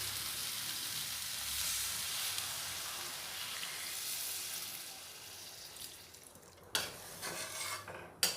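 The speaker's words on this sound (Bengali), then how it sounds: "জল দিয়ে নাড়াচাড়া করে মিশিয়ে নেব।" Banana flower and potato curry is stirred with water in a pan, a soft continuous scraping and gentle sizzle heard close, ending in a few louder clatters of the spoon.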